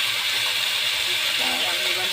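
Vegetable curry frying in a pan: a broad, steady sizzling hiss that stays close and fairly loud throughout, with a voice speaking faintly underneath.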